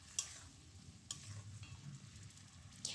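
Radish leaf paste frying in a pan, a soft, steady sizzle with a few sharp ticks of a utensil, close but quiet and with no voices.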